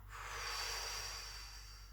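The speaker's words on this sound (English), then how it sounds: "Breathing out." A slow, steady exhale during a yoga balance and alignment session, a soft airy breath held for about two seconds and heard close and faint against quiet room tone.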